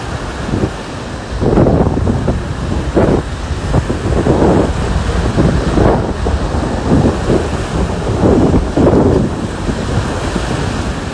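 Steady roar of sea surf on a beach at Kuchugury with gusting wind buffeting the microphone, waves surging and breaking in repeated swells, no voices.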